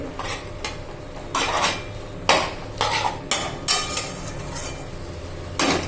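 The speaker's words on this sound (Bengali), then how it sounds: "এটা ভালো করে আস্তে আস্তে কষবো পর অল্প হিটে" Banana stem being stirred and sautéed with spices in a pan over low heat: repeated loud scraping and clattering strokes of a spatula against metal in an irregular rhythm, over a faint sizzle.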